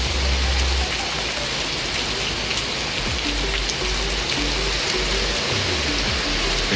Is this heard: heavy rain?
yes